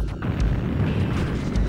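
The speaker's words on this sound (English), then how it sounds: "There's too many explosions." Continuous rumbling explosions from the Sega Saturn game AMOK, dense booms overlapping without pause, loud and close throughout.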